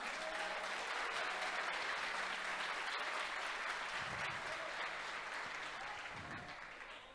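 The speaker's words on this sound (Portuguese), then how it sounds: "Vamos aplaudir Jesus." Steady, continuous applause from a church congregation, fairly distant, sustained throughout and easing slightly at the end.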